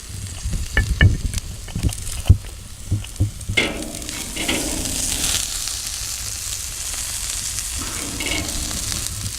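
Steak cooks on an outdoor grill: a few clattering knocks at first, then a steady, close hiss of sizzling meat that carries on alone.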